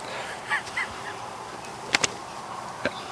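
Geese honk a few times at a moderate distance, short separated calls over outdoor background noise, with a couple of sharper knocks nearby.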